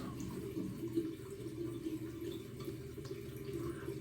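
Tap water running steadily for a cold water shave, a faint, continuous trickle and splash into a sink with no talking.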